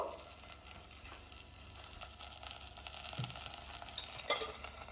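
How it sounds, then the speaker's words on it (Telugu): Food fries in a pan with turmeric added, a quiet sizzle with scraping stirring strokes that grow busier and louder toward the end, heard alone without talk. "సో ఇప్పుడు దీన్ని పచ్చివాసన లేకుండా మనం మంచిగా ఫ్రై చేసుకోవాలి"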